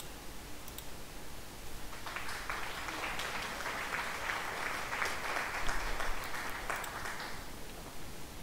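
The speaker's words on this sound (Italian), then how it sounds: "Qua ci vuole un bel applauso." Applause from a small crowd at a night training exercise of an Italian heavy armoured squadron, a soft, distant patter of clapping lasting several seconds over steady background noise.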